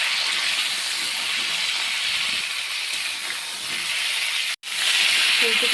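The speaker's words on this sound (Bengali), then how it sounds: "এবার ফুলকপিটাকে আমি লাল লাল করে ভেজে নেব।" Cauliflower dusted with sugar and turmeric frying in a pan, a steady loud sizzling hiss that runs almost the whole time, broken by one brief cutoff near the end.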